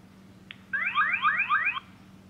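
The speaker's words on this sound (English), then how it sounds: "This alarm here, let me press it." A click, then a bird feeder camera's loud electronic warbling deterrent alarm sweeps up and down rapidly for about a second before cutting off abruptly.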